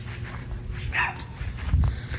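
A dog at a house gives a couple of short barks and yips among kids yelling at it, with voices and movement noise around it at moderate distance.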